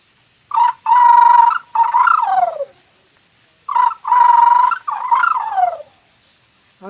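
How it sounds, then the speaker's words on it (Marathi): A wild jungle fowl rooster crows twice in the forest, each call a loud, close series of harsh, stuttering notes ending in a drawn-out falling tail, with a brief pause between the two calls. "हा रानातला कोंबडा."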